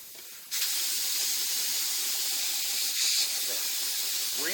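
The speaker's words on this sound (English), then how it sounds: "we're going to pull out our screw. It's going to make lots of noise." A sharp, steady hiss of air escaping from a car tire as a screw is pulled from the tread, starting abruptly and continuing close and loud to the end.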